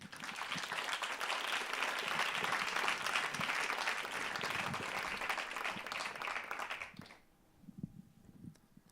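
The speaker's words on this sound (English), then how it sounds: "But give him for now already a round of applause." An audience at a university talk on music and taking a stand applauds a speaker, loud sustained clapping for about seven seconds that stops abruptly, leaving faint room sounds and a few thuds.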